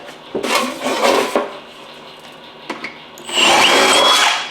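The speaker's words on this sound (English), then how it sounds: "we're gonna go ahead and drill a starter hole" A power drill whirs in a few short bursts, drilling a starter hole in an antique wood stove, then runs in one longer, louder grinding burst that fills the last second or so.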